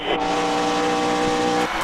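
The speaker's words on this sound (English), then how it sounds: "Gentlemen, start your engines!" Race car engines roar loudly at a drag racing event, a dense sustained mechanical drone with a brief surge near the start and a shift near the end, close and continuous with no voices.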